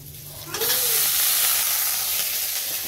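Chickpeas frying with onion, chilli, tomato, cumin-coriander powder and chaat masala: a sudden loud hiss of sizzling starts as they hit the pan and continues steadily, with faint stirring.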